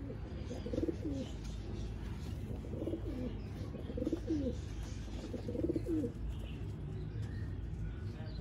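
A Sialkoti pigeon coos softly in repeated low, rolling phrases, about four times, over a constant background hum.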